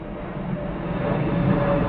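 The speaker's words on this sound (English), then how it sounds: "Big passenger planes." A big passenger jet airliner drones in a steady, muffled roar with a faint whine riding on top, slowly building in loudness throughout.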